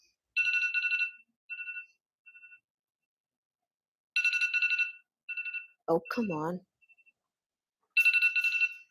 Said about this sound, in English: He's listening to the alarm that's going off.